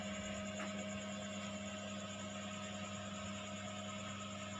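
A drive motor turns the egg rack of a fully automatic timer-controlled egg incubator, giving a steady, even mechanical hum with faint tonal whine that holds unchanged throughout.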